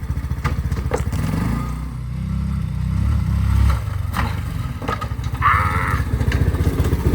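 Four-wheeler engine revving in snow during a snowstorm, a rough, uneven low drone that rises and falls with sputters and clatter, close and loud.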